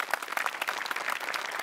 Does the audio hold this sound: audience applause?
yes